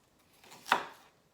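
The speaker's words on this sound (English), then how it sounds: "we're just going to coarsely chop this onion in no particular shape or size" One knife chop through an onion on a cutting board in a home kitchen, a single sharp, close tap with nothing else around it.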